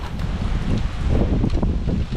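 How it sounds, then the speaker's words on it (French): Strong typhoon wind in Japan roars steadily and loudly, with buffeting gusts and rustling that stay constant throughout, no voices. "il y a le vent qui va lécher un peu partout"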